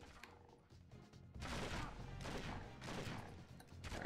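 Revolver gunshots in the shooter video game 007: Agent Under Fire, several heavy reports in close succession with dense, noisy bursts, fairly quiet overall.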